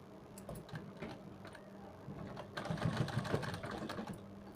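A sewing machine stitching the sleeve of a suit runs with a quiet, steady mechanical chatter of rapid ticking, briefly speeding up and getting a little louder midway, close by and with no talking.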